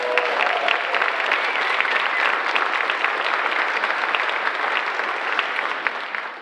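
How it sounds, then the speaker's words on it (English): A sustained round of applause from the audience at an annual community meeting, steady, dense and fairly loud clapping from a crowd that holds evenly for several seconds. "Can I get a round of applause?"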